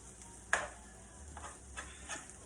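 A spoon stirs ragu sauce in a pan, making a few soft scraping strokes with a sharper clack at the start, quiet and close over a faint background hiss.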